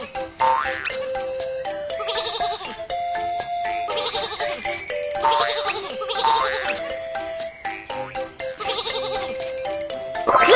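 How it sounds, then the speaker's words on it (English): Cartoon sheep standing on a train track bleat over and over in bright, wavering cries, steady and close against a lively animated soundtrack with playful boing effects. "Some sheep are on the train track."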